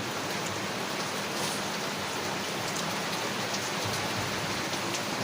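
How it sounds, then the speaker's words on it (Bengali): Rain falls steadily, a dense, even hiss of drops on surfaces that holds at a constant moderate level throughout, with no voices. "বৃষ্টিটা আস্তে আস্তে জোর আসছে বুঝেছো"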